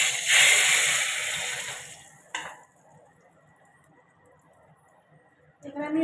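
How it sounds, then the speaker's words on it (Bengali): Water is poured over poppy seeds to soak them in a kitchen, a bright splashing pour for about two seconds that stops abruptly, followed by quiet and a short clatter at the end. "পোস্তগুলো আমি জল দিয়ে কিছুক্ষণ ভিজিয়ে রাখবো।"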